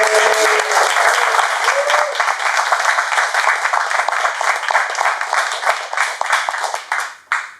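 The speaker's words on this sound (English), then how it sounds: "Could we please give a warm round of applause to our" A warm round of clapping from a Toastmasters meeting audience, dense and sustained for several seconds, gradually thinning into a few last claps near the end.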